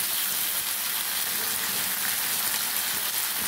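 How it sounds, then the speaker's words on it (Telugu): Onions and tomatoes fry in a pan with a steady, close, continuous sizzle that stays even throughout, with no talking. "ఇప్పుడు టొమాటో, ఆనియన్స్ వేగుతున్నాయి కదా"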